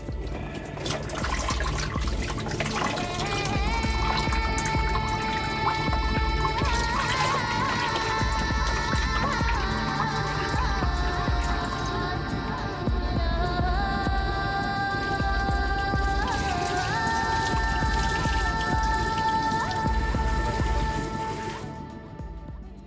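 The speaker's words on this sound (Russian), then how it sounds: "мы сейчас сделаем помывку головы водой с щелоком" Lye water is poured over a head for hair washing in a sauna, a continuous loud splashing stream running the full length, with sustained ringing tones layered over the flowing water.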